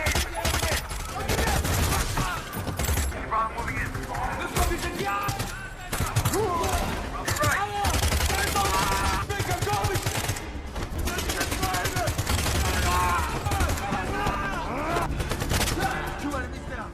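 Shootout in a film, with rapid bursts of gunfire and machine-gun volleys cracking repeatedly over a dense music and effects mix, loud throughout.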